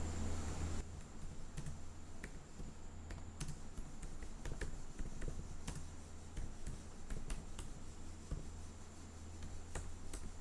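Close, irregular clicks of a computer keyboard as a Linux install command is typed, light tapping bursts over a low steady hum.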